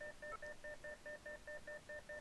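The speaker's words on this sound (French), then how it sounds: "Vous entendez déjà l'alarme?" In the cockpit of an EC135 helicopter in the X-Plane 11 flight simulator, an alarm beeps as a steady string of about eleven short two-tone pulses at a quick, even rhythm, faint and alone.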